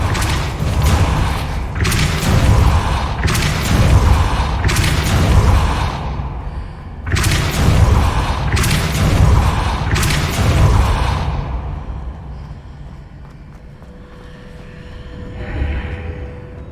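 Repeated bursts of magic from a Depulso spell cast in Hogwarts Legacy, two loud clusters of whooshing, thumping pulses a few seconds apart, then fading into a quieter ambient hum.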